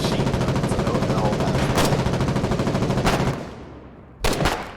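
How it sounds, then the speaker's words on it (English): Machine guns in the war game Foxhole fire in a rapid, loud, continuous stream of shots, which pauses briefly and then returns with a few heavy bursts at the end. "I can't hear you over the machine gun."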